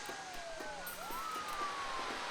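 An ambulance siren from the city-building game SimCity wails with rising and falling sweeps, moderately loud over a steady background hum, with no talking.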